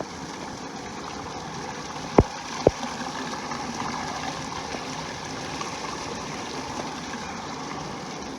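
A high-country waterfall above the snow line rushes in a steady, even roar with no pauses. Two brief sharp knocks break through near the start.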